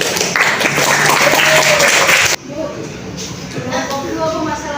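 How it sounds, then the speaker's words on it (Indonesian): Classroom applause for a student group, a burst of dense clapping from a room of students that cuts off abruptly midway, followed by quieter room sound and a voice speaking. "Ya, tepuk tangan dulu untuk kelompok 1."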